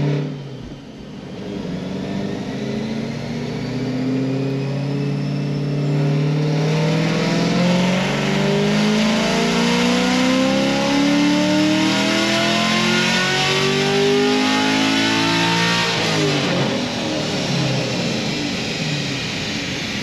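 A naturally aspirated LT1 Camaro bracket car on a chassis dyno roars through a long, loud, full-throttle pull, its engine pitch climbing steadily through the gears for about fifteen seconds before easing off, with no talking.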